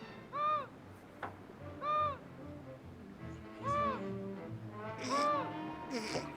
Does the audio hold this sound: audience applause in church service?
no